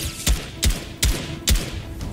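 Four spaced rifle shots from a legendary AK in Fortnite, each a sharp, loud crack with a heavy low thump, fired at a steady rate of roughly one every 0.4 seconds over a continuous game background.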